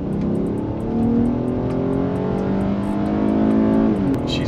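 Homemade replica police cruiser accelerating on a road, its engine revving loudly and rising in pitch through the gears, close and continuous with no talk.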